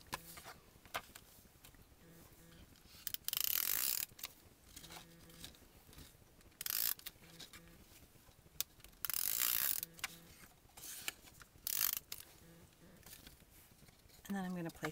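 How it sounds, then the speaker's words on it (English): Adhesive is run along the back of an off-white piece of card paper in a papercraft card project. Several short, close bursts of clicking, ratcheting rasp alternate with quiet pauses. "Now I'm just going to take some adhesive and run that along the back of the off-white piece."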